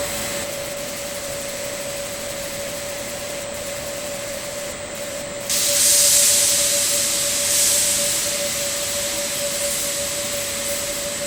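A spray gun lays down a third coat of paint on a JDM car in an enclosed booth, a steady loud airy hiss over a constant hum, growing sharper and louder after about five seconds.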